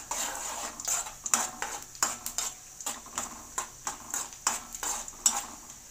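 Broken nuts are lightly roasted in ghee in a pan with rapid, rhythmic spoon scrapes and clinks against the metal over a faint sizzle, close and steady, with no talking.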